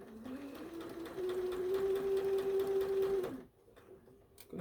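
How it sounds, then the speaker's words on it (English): A sewing machine runs steadily as it stitches fabric for a pumpkin, giving a loud, close, continuous hum with a fast needle clatter for about three seconds before it stops abruptly. "I'm just going to sew just to the inside"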